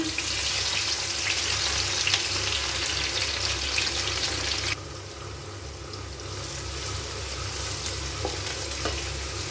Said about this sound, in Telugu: ఆయిల్ హీట్ అయిపోయింది ఇప్పుడు మనం కట్ చేసి ఉంచుకున్న పచ్చిమిర్చి వేసుకోవాలి ఆనియన్స్ పుదీనా